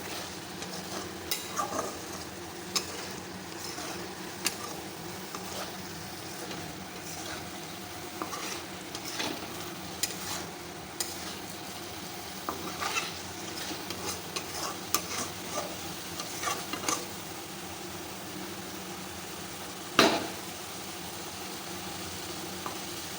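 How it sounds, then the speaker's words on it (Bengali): Steady sizzling as eggs are sautéed in spice paste for egg curry, with occasional stirring scrapes and a sharp clink near the end, no voices. "এই যে মশলার মধ্যে এখন ডিমটা কষাবো"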